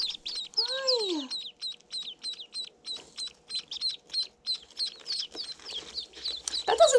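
Ducklings peep from a shipping box in a steady, rapid stream of high, thin calls, fairly faint and close, with a few louder squeaks near the end.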